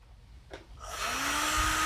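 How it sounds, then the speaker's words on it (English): A heat gun switches on to heat-set paint on a plastic fishing lure, a rising whirring blow that settles into a steady airy roar with a faint whine, close and alone. "Just a quick heat set, because again, that's a thin plastic stencil."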